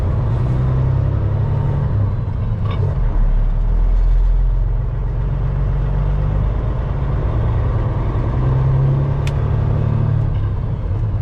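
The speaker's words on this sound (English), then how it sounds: "Jackknifing, trying to make it around a stupid corner." Peterbilt 379 truck pulling a trailer while jackknifing around a tight corner: a loud, steady low engine rumble and road drone that continues throughout, with no talk.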